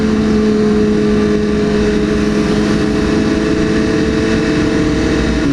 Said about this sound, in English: S1000RR, new R6, old R6, and yeah, let them pass by